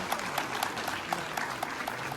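A crowd at a World AIDS Day event in Jammu applauds as a team walks on stage, steady clapping with a few sharper rhythmic claps standing out, no talking over it.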